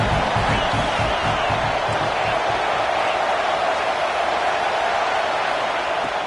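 Stadium crowd noise in a PS5 football video game, a loud, constant roar of cheering and crowd murmur with some low rhythmic thumping early on, filling the whole stretch without pause.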